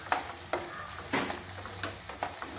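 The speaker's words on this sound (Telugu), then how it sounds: "ఇందులో కొంచెం 4 మిరియాలు, కొంచెం కరివేపాకు వేసుకుందాం. కొంచెం ఇలా తిప్పేసుకుంటే" Peppercorns and curry leaves crackle in hot oil in a pan while a spoon stirs them, with quick repeated scraping strokes over a light sizzle.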